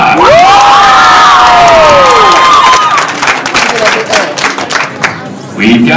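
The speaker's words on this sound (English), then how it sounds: "I'm gonna let all that applause die down." A loud crowd at a cosplay fashion show cheers, shrieks and applauds, high excited voices rising over clapping that tapers off over several seconds.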